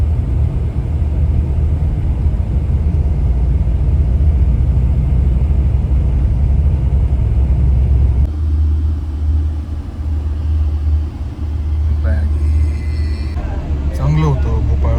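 Steady, loud low engine rumble inside a moving bus on a trip to Bhopal, continuous and droning throughout, with faint cabin noise and a short shift in tone partway through.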